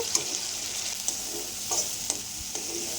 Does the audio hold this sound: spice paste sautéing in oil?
yes